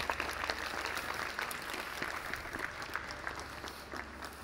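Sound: audience applause for the speaker

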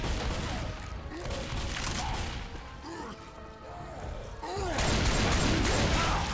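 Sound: gunfire shooting a Hunter in the video game Left 4 Dead 2

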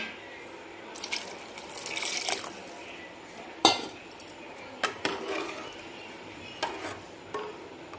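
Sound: pouring hot water into a pot

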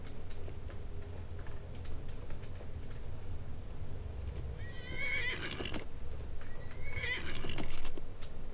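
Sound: horse neighing and hooves in video game Skyrim

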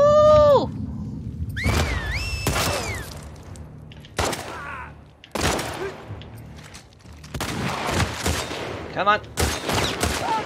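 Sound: gunfire from video game The Last of Us Part II

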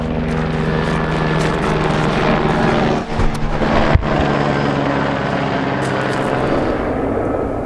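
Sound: helicopter flying overhead

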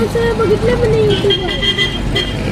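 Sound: heavy road traffic jam with honking

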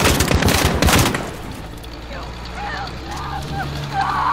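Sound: gunfire in video game Call of Duty: Modern Warfare

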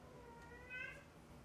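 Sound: cat meowing

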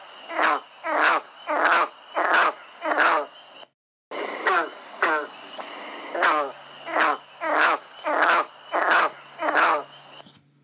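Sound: summer frog call like a plucked banjo twang

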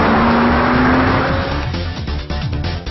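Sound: Porsche Cayman sports car engine

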